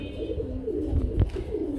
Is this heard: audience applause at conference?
no